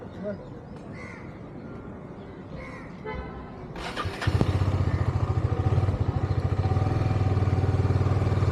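A motorcycle started and ridden off on a street, its engine rising from idle into a loud, close, steady pulsing run after a crow caws in the background, with voices talking early on.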